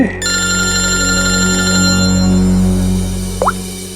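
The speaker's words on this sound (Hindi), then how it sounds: "सर हॉस्पिटल से फोन था" A telephone ringing in an office, a loud, close electronic tonal ring that starts abruptly and holds steadily for several seconds, with no voices.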